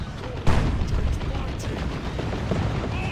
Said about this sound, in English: Plasma Cannon getting some decent hits.